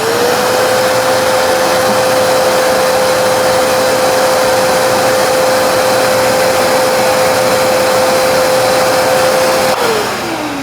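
A 2.5 horsepower Mower vacuum cleaner runs at a loud, steady roar with a constant whine, powered from a portable power station, then briefly winds down at the end.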